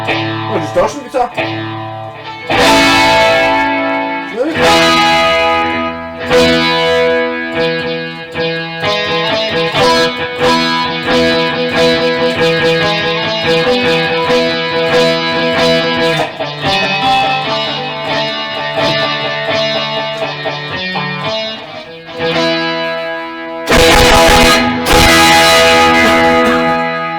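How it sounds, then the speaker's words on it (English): A Yamaha EZ-EG keyboard guitar plays with its distortion guitar effect, giving loud sustained chords and single notes that go on for almost half a minute, cut by a few short harsh bursts. "Oh, distortion guitar."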